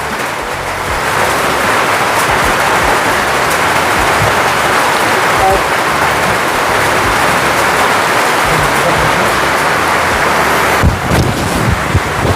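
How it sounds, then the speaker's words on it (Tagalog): Heavy rain falls steadily on a mountainside in the evening, a loud, continuous broadband wash that holds for the whole stretch, with a brief rustle or bump near the end. "Malakas pa rin yung ulan."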